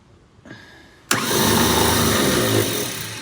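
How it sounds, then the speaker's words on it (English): A 1954 Chevrolet's starter kicks in with an abrupt loud onset and cranks the engine in a steady, unbroken whir for about two seconds, with no voices over it. "Go ahead and crank it, Scott."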